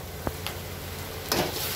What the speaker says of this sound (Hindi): और अब मैं अदरक डाल रही हूँ इसमें।